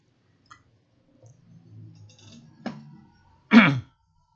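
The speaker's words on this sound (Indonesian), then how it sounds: "Maaf ya, udah umur jadi gampang batuk." An older man coughs and clears his throat close to the mic, a short low rumble followed by one sharp, loud cough.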